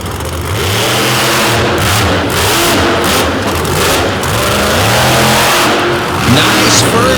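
A powerful monster truck engine roars and revs loudly at a monster truck show in Madison, its pitch rising and falling in repeated surges, close and continuous throughout.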